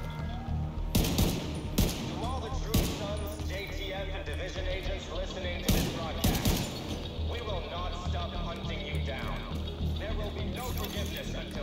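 Gunfire in The Division 2 at a propaganda broadcast site on 23rd Street NW, West Potomac Park: scattered sharp shots and short bursts, some close and some distant, under a voice speaking throughout.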